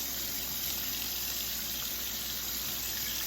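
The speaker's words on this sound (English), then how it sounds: "So we're going to add some apple cider vinegar to the water." Running water for washing produce, with apple cider vinegar mixed in, pours steadily from a faucet as an even, hissing rush throughout, with no talk.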